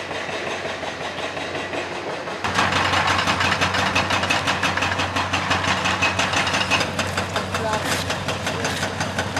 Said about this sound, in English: So listen to that engine.